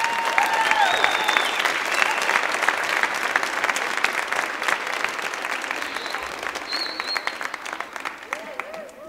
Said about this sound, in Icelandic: Skulum klappa vel fyrir Gerlu.